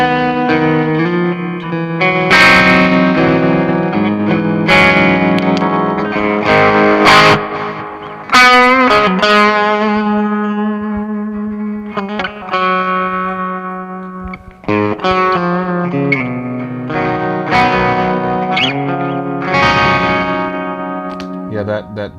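An electric guitar plays through an amp driven by a Tone City Golden Plexi distortion pedal, producing loud, crunchy overdriven chords and riffs with ringing sustain, played continuously up close in an isolation cabinet setup.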